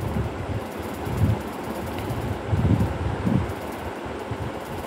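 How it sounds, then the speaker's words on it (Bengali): Gusty stormy wind blows during heavy rain on Maafushi island in the Maldives, rumbling loudly against the microphone in uneven surges, with stronger gusts swelling and fading throughout. "বৃষ্টি এবং বাতাসের যে দমকা হাওয়া এর জন্য"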